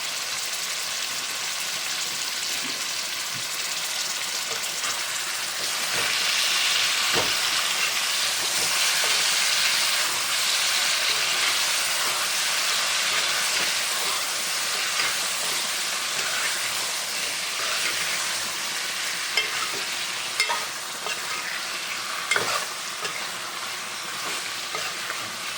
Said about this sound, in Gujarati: હવે નાખવાનું છે હિંગ, બધાને મિક્સ કરી નાખવાનું.